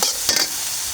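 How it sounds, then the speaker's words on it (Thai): Minced pork stir-fried dry in a pan, a close, loud, steady sizzle with a quick scrape of the spatula near the start, no talk. "เราจะผัดให้แห้งเลยน้ำของหมูมันก็จะออกมาละ"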